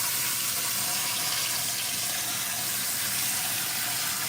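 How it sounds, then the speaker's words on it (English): Steady rush of water running from a tap into a sink as something soiled is rinsed out, a continuous close splashing hiss with no talk over it. "I'm just gonna wash it out like this first."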